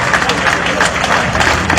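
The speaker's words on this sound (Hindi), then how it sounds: "जोरदार तालियां बजाई जाए।" At the final-day training ceremony, a large crowd of cadets gives loud, continuous applause, with dense clapping close by for the whole moment.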